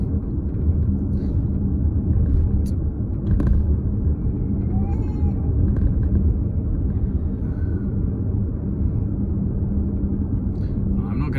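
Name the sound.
Suzuki Across plug-in hybrid SUV driving on gravel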